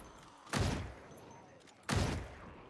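Two sharp rifle shots from a scoped hunter carbine varmint rifle in a video game, about 1.4 seconds apart, each a loud crack with a short tail, set over quiet background.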